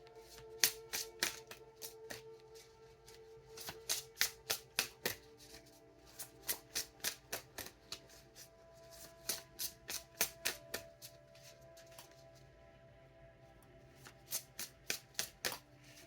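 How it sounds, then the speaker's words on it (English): Cards being riffle-shuffled over and over, a fast crisp flutter repeating in bursts with brief pauses, close and fairly quiet. "I can actually shuffle this deck."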